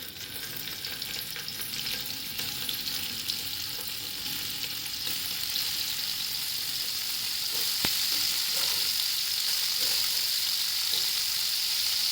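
Masala-rubbed paneer cubes shallow fry in a pan, giving a continuous close sizzle that grows slightly louder, with occasional light stirring clicks and no talking.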